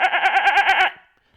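A single sheep bleats close and loud in a rapid, wavering series of pulses lasting under a second, then falls silent.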